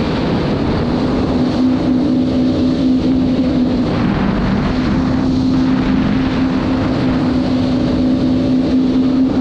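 A 2006 Yamaha WaveRunner VX110 personal watercraft running on water, its engine a steady, loud droning hum with a constant pitch, mixed with rushing water and wind buffeting the microphone.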